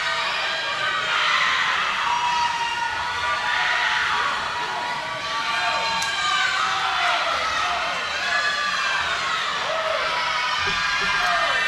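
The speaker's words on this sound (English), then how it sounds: "You can hear the crowd on these relays really getting ramped up." A crowd at a swimming relay cheers and shouts continuously, a dense sustained roar of many voices with rising whoops throughout.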